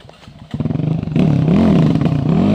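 An enduro motorcycle engine overheating and boiling over on a trail runs loud and close, a rough pulsing idle that swells into a steady, harsher drone with wavering tone.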